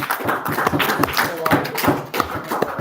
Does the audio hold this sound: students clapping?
yes